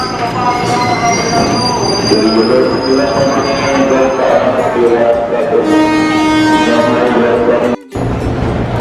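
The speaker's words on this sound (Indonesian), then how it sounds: "ini kereta yang ke Sudirman udah datang" A commuter train bound for Sudirman, Jakarta, rolls into the station with loud, sustained wheel squeal and rumbling, steady throughout, briefly cutting out near the end.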